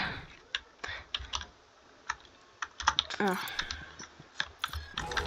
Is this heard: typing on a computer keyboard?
yes